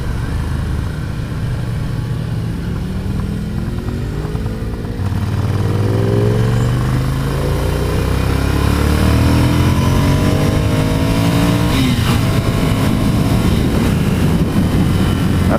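A 2015 Ducati Scrambler motorcycle engine hums steadily while riding through low-speed corners in the city, its pitch rising and falling with throttle changes. The note builds louder midway, with wind rush underneath.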